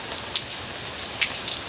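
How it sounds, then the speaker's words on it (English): Warm rain falls steadily in a dense, even hiss on surfaces, with a few sharper nearby drops ticking out above the wash. "This rain is warm and it's beautiful"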